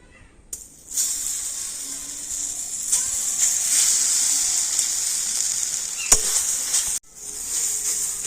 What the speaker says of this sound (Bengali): আর এই সুজিটা এখন আমি ঘিয়ের মধ্যে দিয়ে দেবো